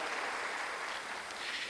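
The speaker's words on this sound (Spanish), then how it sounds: "den un fuerte aplauso al Señor" A church congregation applauds the Lord in a steady, dense wash of clapping that holds evenly throughout, with no voices over it.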